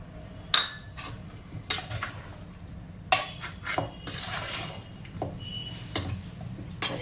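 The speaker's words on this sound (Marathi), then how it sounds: "तर मी आता मिक्स करते" Marinated biryani ingredients being mixed by hand in a pot, giving irregular scraping, clinking and shuffling bursts of varying loudness with short pauses between, close up and with no talking.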